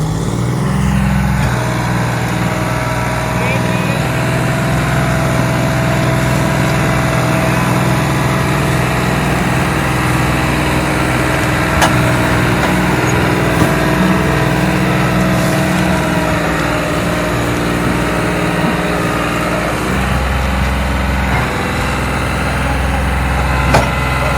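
John Deere and Arjun tractors' engines running together in a tractor pulling contest, a loud continuous engine roar with a shift in pitch near the end.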